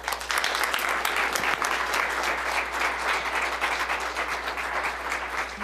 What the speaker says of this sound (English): please, put your hands together and let's welcome, with a very warm hand clap, Pamela Alderman